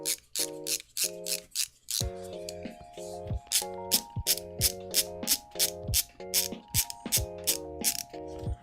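Repeated bursts of clicking from a hand ratchet driver turning socket head bolts during assembly of a steel-frame 3D printer kit, with a steady rapid rhythm of tonal clicks, close and moderately loud, and no talking.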